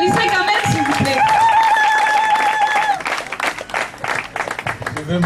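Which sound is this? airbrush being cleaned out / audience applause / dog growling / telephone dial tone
audience applause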